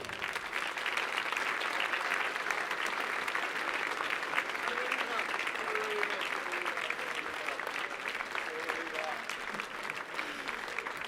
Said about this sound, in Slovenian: En aplavz za Marko, ta Marko živijo.